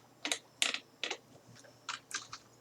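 Typing on a computer keyboard: several short bursts of clicky keystrokes in a quiet room, close and fairly soft, with no talking.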